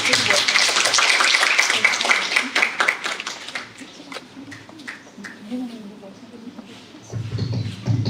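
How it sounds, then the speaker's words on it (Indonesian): A seminar audience at a health clinic event breaks into warm applause, loud and dense for about three seconds before thinning out, with a voice and room noise following. "Kita tepuk tangan dulu dong"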